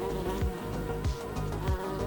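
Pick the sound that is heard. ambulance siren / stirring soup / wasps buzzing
wasps buzzing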